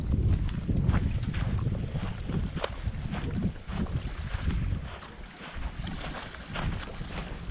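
Gusty wind buffets the microphone on a shoreline while fishing for sea bass, roaring in uneven surges that rise and fall, loud and close, with no talking.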